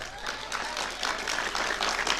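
Audience applause at a Tamil public speech, a steady even wash of clapping from a large crowd throughout.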